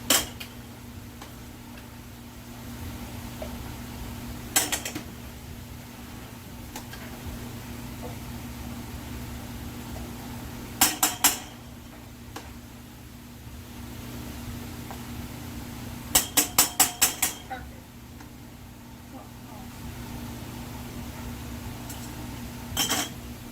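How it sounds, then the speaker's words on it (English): Lids and rings going onto glass canning jars of blackberry jam, sparse sharp metallic clicks and quick rattling clusters spaced apart over a steady kitchen hum. "she's wiping off the rims, and she's putting on the lids and rings, just like we always do"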